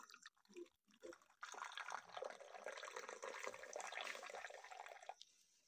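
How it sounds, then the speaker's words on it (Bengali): Lemon leaf tea pours into a cup in a thin, steady stream that runs for about four seconds after a few faint clinks and drips, then tapers off, quiet and close. "এবার আমি চা একটি কাপে ঢেলে নেব।"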